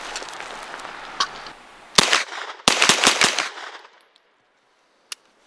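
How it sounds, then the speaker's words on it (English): Rapid magazine dump fired at eBay body armor, a quick string of sharp, loud outdoor gunshots with echoing tails and one lone shot after a pause. "I'm just gonna do a mag dump because I'm not gonna sit here."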